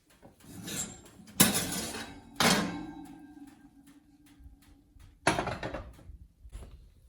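Metal baking pans of golden-brown German pancakes lifted from an oven and set down on the stovetop, with a few sharp clanks and clinks spaced apart, each trailing into a low hum.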